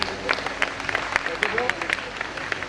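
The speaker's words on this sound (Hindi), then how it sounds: "तालियां फिर बजा दीजिए।" Audience applause at a silver jubilee gathering, scattered claps spread through the room at moderate level, with a steady hum of crowd noise underneath.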